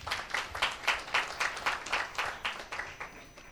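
Congregation at a church service clapping together in a steady rhythmic beat, about a dozen even claps, fairly faint and distant.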